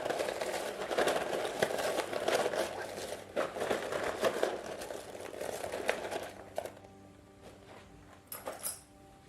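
Tarot cards shuffled by hand, giving soft rapid riffling and crinkly flutters that run for several seconds, then fade to quieter scattered taps.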